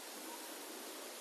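An indoor water feature inside the Bengaluru airport terminal flows with a soft, steady hiss, faint and unbroken, with no voices over it.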